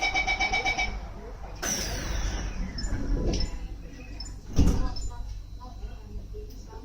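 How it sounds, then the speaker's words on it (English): An SMRT C751B train on Singapore's East-West Line sounds its repeating door-closing chime, then the doors slide shut with a descending whoosh and a solid thud, followed by the low rumble of the carriage interior. "doors are closing."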